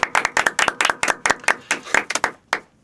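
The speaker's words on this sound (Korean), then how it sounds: "자, 박수 한번 치고 가죠." A small group claps for a few seconds in a live studio stream, close and crisp, slightly uneven hand claps with no one talking.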